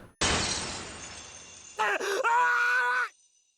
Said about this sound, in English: Suddenly, a sound like shattering glass traveled from my ears to the rest of my body.